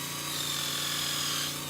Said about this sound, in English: So I've got here a bit that'll do a countersink. So I drill that out a little bit